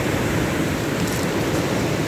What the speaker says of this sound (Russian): Волна так и бьет, смотрите